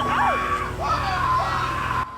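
Shrill, wavering screams of a hunter attacked by Bigfoot in a Lost Tapes episode, two or three rising and falling cries in quick succession over a low background hum, cutting off abruptly at the end.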